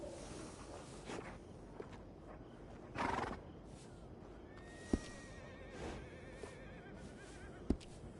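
A horse in Red Dead Redemption II gives a short whinny, followed by scattered soft hoof clops and sharp clicks against a quiet background.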